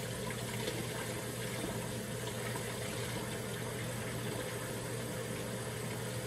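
Tap water runs in a steady, even hiss while a peeled egg is rinsed, with no pauses or voices.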